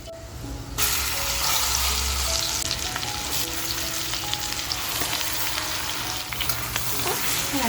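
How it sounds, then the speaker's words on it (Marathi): Marinated mutton hits hot ghee with whole spices over a full gas flame, cooking a hotel-style mutton masala; after a brief quieter moment, a loud, steady, close sizzle and crackle fills the rest. "आत्ता जे आपण मटण मॅरिनेट केलं आहे ना ते आपल्याला ह्याच्यामध्ये टाकून घ्यायचं आहे"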